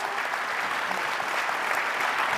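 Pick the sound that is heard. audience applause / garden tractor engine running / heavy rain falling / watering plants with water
audience applause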